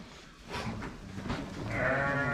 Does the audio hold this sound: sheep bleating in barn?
yes